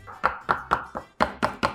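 A knife chops cooked spinach on a board in seven sharp, close taps, falling into two quick rhythmic runs with a short pause between them.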